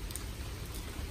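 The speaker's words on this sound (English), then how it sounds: "I am not going out there in the rain" Rain falls steadily outdoors as a continuous, even hiss with soft low patter, moderately loud and alone for just over a second.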